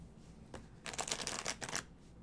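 Tarot cards being shuffled in a quick riffling burst, preceded by a single soft flick, close and fairly quiet, with no talking.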